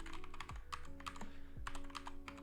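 Close, quick typing on a computer keyboard, with rapid irregular clacks of keys pressed in short bursts, quiet and alone with no talking.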